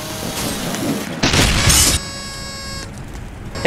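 A suicide bomb blast in the chaotic Roblox combat game Mortem Metallum, one loud booming burst with a crackling, shattering tail that drops into a lingering electronic ringing hum, heard alone.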